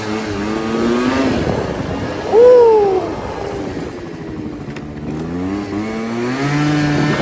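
BMW E36 fitted with a turbo engine, starting and idling roughly with a brief rev around the middle, steady and close, with faint voices in the background.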